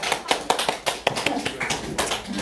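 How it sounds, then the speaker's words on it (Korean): Clapping from a small youth church congregation during a Sunday service, a handful of sharp, scattered claps close by, uneven and sparse rather than a full ovation. "박수 한번."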